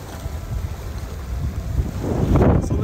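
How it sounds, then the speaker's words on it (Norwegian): Steady wind of about 10-12 knots blows and buffets the microphone aboard a sailboat on the Helgeland coast of Norway, growing rougher and louder toward the end. "Blåser en 10-12 knop"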